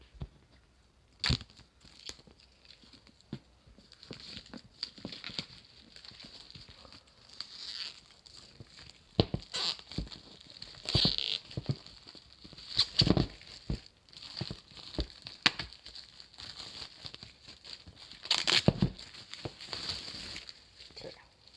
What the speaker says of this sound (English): we are going to ever so carefully just cut a little slit right there